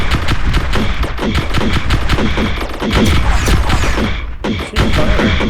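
Spaceship weapons firing in the Star Drive 2 space strategy game, a dense rapid barrage of loud crackling shots and booms running continuously with a brief dip near the end.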